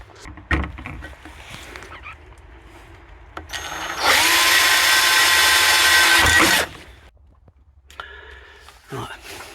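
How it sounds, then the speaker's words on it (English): A power drill bores during a bathroom shower renovation, one loud steady whining burst of about two and a half seconds, close by, with quieter handling knocks and bumps before and after. "Right, I've got that drilled, that in position."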